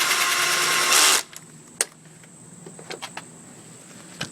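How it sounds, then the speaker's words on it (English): Screwing the cover back onto a Honda Express SR scooter: a loud, steady power-driver whir for about a second, then silence broken by a few sharp clicks and taps. "And then screw in the cover."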